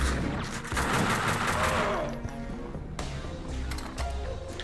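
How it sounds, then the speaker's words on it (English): Enemy gunfire in the video game Max Payne 2, a dense rapid fusillade of shots followed by further bursts and a sharp blast at the end, loud and continuous. "he starts shooting when I've got my back turned"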